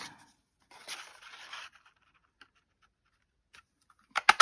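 Paper being cut with a 1.5 inch scalloped circle punch, a short rough crunching burst followed by faint ticks and a few sharp clicks at the end.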